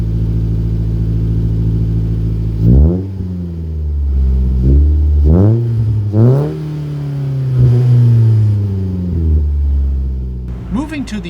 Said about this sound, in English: the Spec V on its own has a sporty enough exhaust note